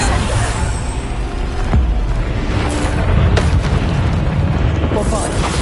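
Bombarda spell explosions in the Hogwarts Legacy video game, loud booming blasts and bursts with one sharp impact early on, amid busy combat noise.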